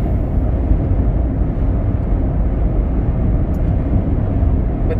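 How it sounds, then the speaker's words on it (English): Steady road traffic rumble heard from inside a moving vehicle, a continuous low, broadband drone that stays at an even level throughout with no talk over it. "But the traffic is wonderful."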